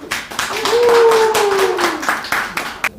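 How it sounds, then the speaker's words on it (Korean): Audience clapping to welcome an author at a book talk, a loud burst of hand claps that fades out with a whistle-like tone running under it. "여러분 뜨거운 박수 한번 부탁드리겠습니다"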